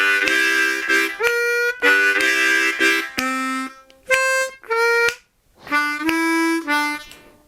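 Blues harmonica playing both halves of a comping lick, short reedy chordal bursts in a choppy rhythm with brief gaps between phrases, close and fairly loud, with no talking.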